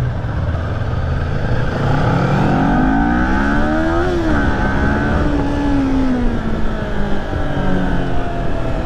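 A Kawasaki Ninja 400 motorcycle accelerates on a test ride, its engine note climbing through the gears with rising pitch, a brief shift dip, then pulling on strongly and loudly up close.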